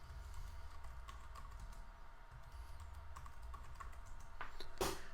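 Fingers tap at a computer keyboard while entering a Unix name and password during a Windows 10 WSL setup, a quiet, irregular patter of keystrokes with one louder clack near the end.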